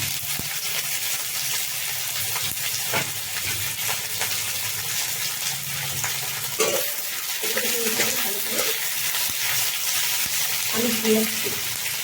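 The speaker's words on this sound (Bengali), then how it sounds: "আমি সামান্য নুন দিচ্ছি যাতে পেঁয়াজটি তাড়াতাড়ি ভাজা হয়ে যায়" Onion frying in hot oil with salt in a pan, a steady loud close sizzle throughout with occasional stirring scrapes and clatters, no talking.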